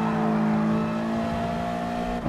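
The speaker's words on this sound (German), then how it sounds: "Der kann was, der hat eine richtig schöne Beschleunigung." A Toyota 86 race car from 2016 in Gr. 4 trim, driven in GT Sport at Brands Hatch, accelerates with a loud, steady engine drone that holds close and continuous for the whole stretch.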